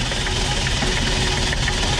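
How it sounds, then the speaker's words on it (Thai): The old original engine of a Nissan Big M pickup idles close by with a steady, rough mechanical rumble and a light knocking rattle throughout, with no talk. "เสียงเครื่องยนต์ของเครื่องยนต์เก่าปกตินะครับผม"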